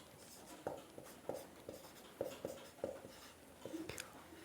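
A pen or chalk writes on a board during a physics lecture on simple harmonic oscillation, giving a series of faint, quick scratching strokes and taps in an irregular rhythm, heard close and quiet with no talking.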